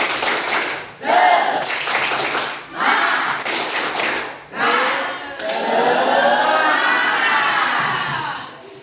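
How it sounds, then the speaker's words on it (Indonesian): A school class performs a rhythmic group spirit clap, loud bursts of unison clapping in repeated phrases separated by short pauses, ending in a longer burst with children's shouts and cheering. "Coba kurang kompak semua, mulai. Tepuk semangat."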